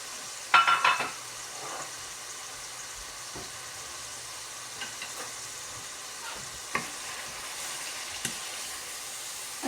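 Fish masala with tomatoes, cumin powder, ground dried coriander and red chili powder cooking in a pan, giving a soft steady sizzle and quiet stirring scrapes, with a louder clatter at the start.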